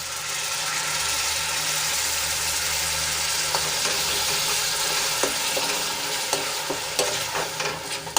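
Chillies, ginger and peanuts sauté in a pan as tomato puree is added, giving a steady, loud sizzle. Stirring scrapes and clinks grow more frequent toward the end.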